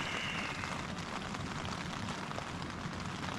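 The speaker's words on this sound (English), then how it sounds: "It's raining heavily." Heavy rain pours onto a tent during a solo wild camp, a dense, steady hiss and patter filling the whole stretch with no voices.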